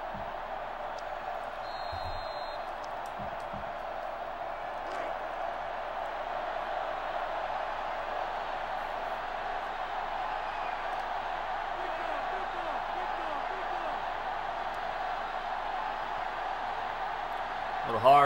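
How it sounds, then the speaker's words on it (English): Stadium crowd cheering in the NCAA Football 06 video game, a steady, dense roar that holds at an even level throughout under a commentator's talk. "Crowd going crazy."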